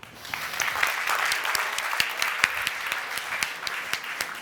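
An audience at a graduation ceremony applauds a band with sustained, moderately distant clapping and a few sharper claps standing out from the steady crowd.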